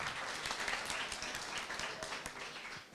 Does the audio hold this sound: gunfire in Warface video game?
no